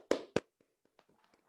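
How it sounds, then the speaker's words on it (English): Two sharp claps from a small group of podcast hosts in a lounge studio, close and loud, followed by a few faint scattered taps and quiet murmurs. "Give a little clap."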